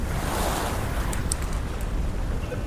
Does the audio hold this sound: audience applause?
no